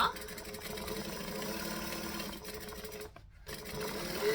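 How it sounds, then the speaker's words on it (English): A sewing machine stitches along the seam of a triangle bag, running steadily and fairly close for most of the stretch, with a brief pause near the end before the motor picks up again. "Then I can just lift this up and stitch along here,"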